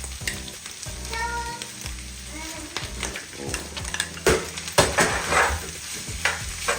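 Rice is stirred into a hot pan of chicken fried rice, making a crackling sizzle broken by repeated scraping spatula strokes against the pan, close and busy, with no one speaking.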